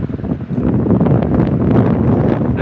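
Strong wind blows outdoors on a morning walk, buffeting the microphone in a loud, continuous rumble with a roaring hiss and no pauses.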